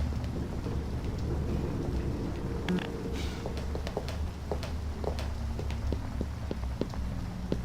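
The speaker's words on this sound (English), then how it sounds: "Certainly is raining outside." Continuous rain hiss in the game Half-Life 2 with scattered drips and taps, a dense steady wash of sound with a low rumble underneath.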